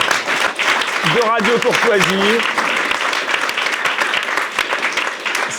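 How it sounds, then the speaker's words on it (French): A French radio-TV talk show studio audience applauds Mike Borowski, a steady dense clapping that runs the whole stretch, with a voice speaking over it near the start. "Et tout d'abord, Mike Borowski, on peut l'applaudir."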